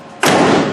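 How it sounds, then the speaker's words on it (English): A Bronco door fitted with YJ latches swings shut with one loud, close thud that rings on briefly afterward. "The door latches with those YJ latches on the outside."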